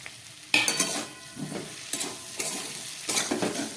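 Soybean chunks being stir-fried with cauliflower and spices in a pan for a vegetarian curry: a low hot sizzle broken by several sharp, close bursts of stirring and scraping at irregular intervals.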